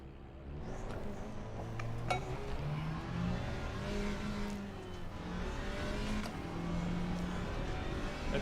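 GT4 race cars in the ACC racing game, a steady engine drone with gear changes and shifting pitch, cars running close together throughout, with occasional sharp clicks and no speech.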